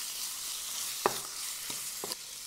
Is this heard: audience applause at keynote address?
no